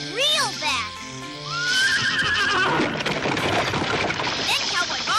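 A frightened horse whinnies loudly in shrill, descending bursts, repeating over several seconds amid busy cartoon action sounds and a voice.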